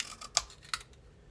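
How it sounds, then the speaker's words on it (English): A banner punch cutting paper gives two quick, crisp clicks a moment apart, quiet and close in an otherwise still room. "So I am just going to use my banner punch"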